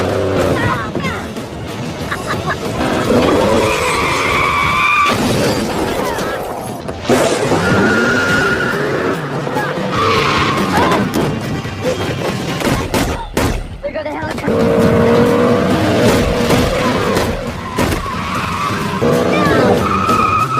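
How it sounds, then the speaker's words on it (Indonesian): A Ford Mustang tears through a film car chase, its tires skidding and squealing repeatedly amid roaring engine and bursts of gunfire, with a narrator talking over the loud action throughout. "John Wick pun langsung mengejar Vigo memakai mobil Mustang yang sangat edan sekali"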